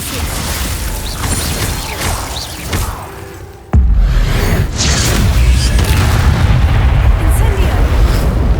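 Glacius freezing spell cast in Hogwarts Legacy, a loud sudden burst that cuts in sharply and is followed by a sustained, dense rumbling roar amid busy combat noise.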